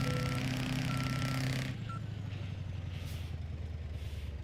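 Truck engine in the Euro Truck Simulator 2 game: a steady rough droning idle with a pulsing low rumble, briefly joined by a tonal beep before the sound drops to a quieter throb, with no talking.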